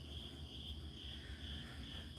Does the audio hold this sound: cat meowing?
no